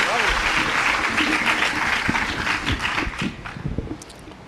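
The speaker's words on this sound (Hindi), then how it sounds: "पहला कवि, जोरदार तालियां सूरत में आपके बीच में।" Audience in Surat, Gujarat applauding the first poet at a kavi sammelan poetry gathering, a loud burst of clapping mixed with voices and microphone thumps, thinning out toward the end.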